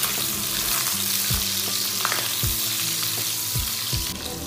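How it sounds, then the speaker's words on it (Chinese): Pork belly stir-fried in a wok with garlic and small chili peppers, a loud, close sizzle broken by several rhythmic scraping strokes of the spatula, with no talk. "接着翻炒几下"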